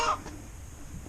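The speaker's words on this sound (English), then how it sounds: "Chickens are joining in the conversation." A chicken gives a brief cluck at the start, then faint ambient hiss and low rumble carry on under it.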